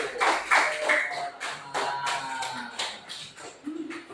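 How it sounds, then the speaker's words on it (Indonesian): A classroom of students claps their hands in a short burst, uneven and close by, with several distinct hand strikes and some shuffling and tapping mixed in, fading into scattered sounds and brief voices. "Tepuk tangan dulu."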